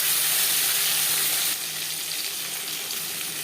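Tomatoes sizzle in hot oil with whole cumin seeds and bay leaves in a pan, a loud, steady hiss that drops slightly partway through and then keeps frying evenly.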